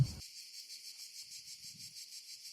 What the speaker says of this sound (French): la cymbalisation continue des cigales